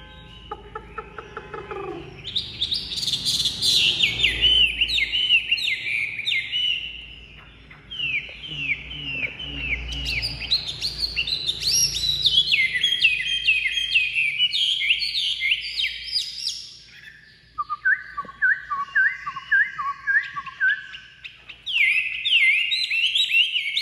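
A hwamei, the Chinese melodious laughingthrush, sings loud and close in rapid, varied whistled phrases and trills that run almost without pause, with a brief dip in the middle before the song resumes.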